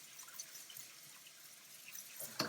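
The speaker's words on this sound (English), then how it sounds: "we'll run a little bit of cold water in them" Cold tap water runs over drained al dente lasagna noodles in a colander, making a faint, steady trickle and splash with a brief louder splash at the end.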